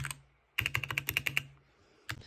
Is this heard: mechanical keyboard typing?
yes